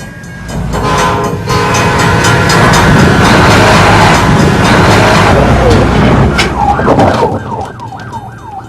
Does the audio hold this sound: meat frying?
no